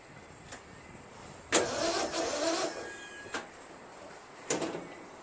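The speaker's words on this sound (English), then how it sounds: "you can just tell that it's a slow crank" A Craftsman LT1000 lawn tractor's Briggs opposed-twin 19.5 hp engine cranks sluggishly in a few short, labored bursts separated by pauses, with one longer grinding attempt in the middle, recorded close up.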